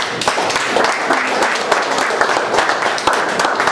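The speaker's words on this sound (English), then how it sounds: "So I just want us to applaud Ayman and Disha for their work." A crowd at a speech event applauds two entrepreneurs, with loud, dense and unbroken clapping filling the room throughout.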